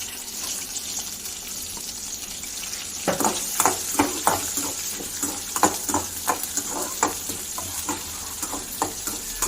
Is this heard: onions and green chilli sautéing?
yes